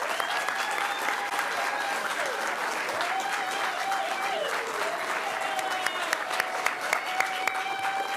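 Steady applause from a crowd at a Little League Baseball event, dense clapping that holds at an even level throughout, with a few sharper claps standing out near the end.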